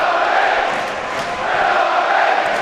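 A football stadium crowd at a Bristol City match roars in reaction to a chance, a loud sustained swell of cheering voices that dips briefly and rises again, with commentary talk mixed underneath.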